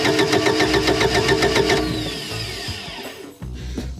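A budget boat's engine cranks with a rapid, loud rhythmic churning, then winds down and fails to catch, ending in brief sputtering.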